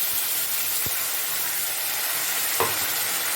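A paste of ginger, garlic, cumin, coriander, dried chilli and onion sizzles loudly and steadily in hot oil for a fish head curry, with a couple of soft stirring knocks against the pan.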